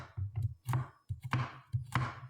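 Vegetables chopped with a knife on a cutting board for a stir fry, a series of close, crisp knocks in uneven clusters of two or three strokes, with short pauses between.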